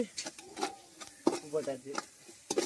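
Ingredients for biryani are sautéed with salt in a hot pan, with a spatula scraping and stirring in several quick, close strokes over a light sizzle, and faint voices in the background.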